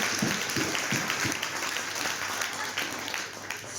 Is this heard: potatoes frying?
no